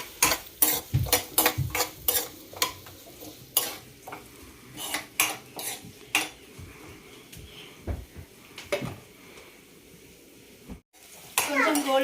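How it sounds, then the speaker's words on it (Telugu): Onions, curry leaves and green chillies fry over a medium flame in a pan, with quiet sizzling under frequent clinks and scrapes of a spoon stirring against the metal. "ఆనియన్స్, కరివేపాకు అండ్ మిర్చి వేసేసుకొని కొంచెం మీడియం ఫ్లేమ్లో పెట్టుకొని"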